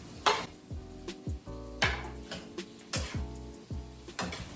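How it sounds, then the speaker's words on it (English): Onions and zucchini sauté in a pan on the stove, with a soft sizzle under repeated sharp utensil scrapes and clanks against the pan, close and fairly loud. "I sauteed the onions a little bit first because those were raw and needed to cook"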